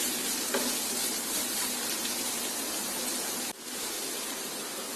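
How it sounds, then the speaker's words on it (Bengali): Chopped tomatoes and vegetables frying with chicken in a pan, a dense, even hiss of sizzling oil held close and constant, with one brief sharp break near the end. "এখন এইগুলি আমি আবার 2-3 মিনিট একটু এই চিকেনের সাথে ভেজে নেব"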